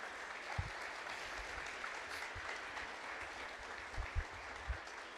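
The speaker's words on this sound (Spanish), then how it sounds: "Les damos un aplauso a todas ellas." Church congregation applauding mothers during a service, a soft, distant wash of clapping with a few low thumps, steady and faint throughout.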